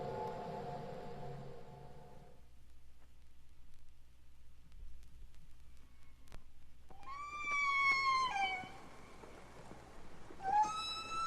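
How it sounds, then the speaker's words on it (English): Recorded humpback whale song: a low, droning tonal passage gives way to a quiet gap, then a series of rising, wavering cries, loud and eerie, with no voices. "Humpback whales have tremendously complex song at a wide range of frequencies"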